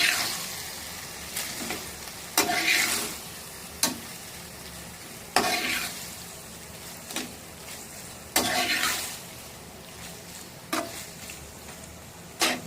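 A spoon stirs vegetable pasta in red sauce in a pan, making close, scraping, sizzling strokes at irregular intervals, with a low steady hiss between them and no voices.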